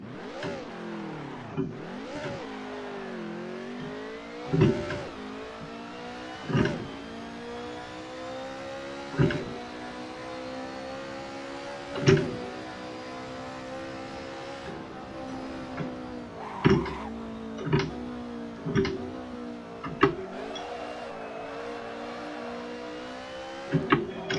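Race car engine in the Assetto Corsa Competizione racing game, droning steadily through a long drift with rising and falling revs and repeated sharp gear-shift or throttle blips, fairly loud with no talk.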